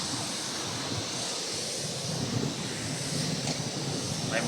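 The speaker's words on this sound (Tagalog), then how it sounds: "Lakas ang hangin ito guys." Strong wind roars continuously into the microphone as a broad, steady rush with slight gusting.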